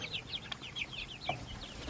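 Freedom Ranger meat chickens raised on pasture cluck and chirp in a quick series of short, bright calls, several birds close by over a faint outdoor background.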